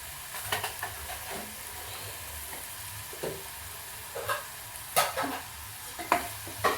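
Mushroom masala frying in a pan with homemade spice mix, a soft sizzle under scattered scraping stirs and a few sharper clinks, close and fairly quiet.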